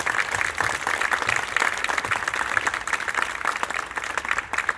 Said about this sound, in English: So a big round of applause to everyone over at the Community Foundation.